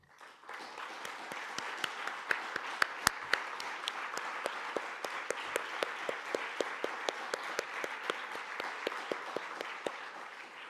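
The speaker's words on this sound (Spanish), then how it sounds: "Por eso os quiero pedir un aplauso para él." A conference audience in a large hall at a social forum in San Sebastián's Kursaal gives sustained, even applause for about eleven seconds, broad and moderately distant, with a few crisp individual claps standing out.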